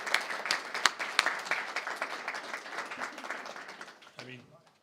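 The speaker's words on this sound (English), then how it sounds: "a big round of applause is owed to these educators" An audience at a board of education work session applauds with dense, crackling clapping that gradually thins out and fades toward the end.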